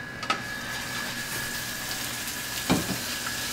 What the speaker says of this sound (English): So I got the salted pork, and I'm just gonna lay this into my pan.